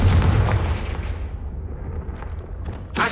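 A Confringo fire spell blasts in the Hogwarts Legacy video game, one booming explosion with a rumbling tail that fades out, followed by a sharp burst right at the end.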